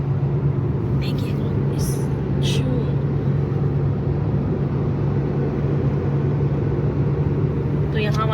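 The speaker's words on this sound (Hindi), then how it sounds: "यहाँ हमारी भी गाड़ी चल रही है 100 की स्पीड पे।" Car cruising at 100 km/h on a motorway, a steady loud road and engine rumble with constant tyre noise throughout, a few brief higher hisses riding on top.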